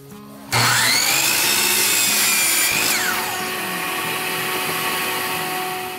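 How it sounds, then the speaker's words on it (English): Miter saw cutting a piece of wood to length in a workshop: a sharp click, then the motor spins up to a loud steady whine, the blade bites through the wood, and the motor winds down. "we'll go ahead and make the cut on the miter saw"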